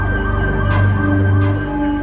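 An ambulance siren wails loud and steady at a structural collapse scene, its rising and falling tone sweeping continuously over a low engine rumble, with no voices.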